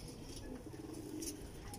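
A pigeon kept by a breeder coos in a low, continuous murmur, close and fairly steady, with faint higher chirps mixed in and no talk over it.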